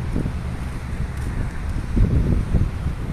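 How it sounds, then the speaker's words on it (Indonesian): Strong wind buffeting the microphone near a high-speed railway station construction site, a continuous loud rushing roar with gusts swelling and easing throughout. "Anginnya besar sekali."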